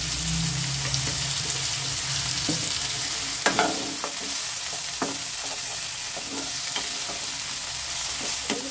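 Potatoes fry in a pan with salt and turmeric, a continuous loud sizzle with scattered sharp clicks and scrapes of a utensil stirring through, close up and with no one talking.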